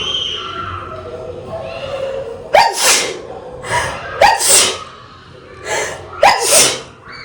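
Three loud sneezes from frying green chili fumes burst out close by, each a sharp explosive blast, spaced a couple of seconds apart with quiet breathing between.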